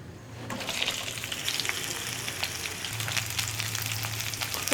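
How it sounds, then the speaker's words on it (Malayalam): Okra frying in hot coconut oil gives a steady, dense sizzle that starts just after the first half-second and holds evenly throughout, close and fairly loud, with no talking. "അപ്പോൾ വെളിച്ചെണ്ണ ചൂടായി തുടങ്ങുന്നുണ്ട്. നമുക്ക് വെണ്ടയ്ക്ക ഇതിലേക്ക് ഇട്ട് കൊടുക്കാം."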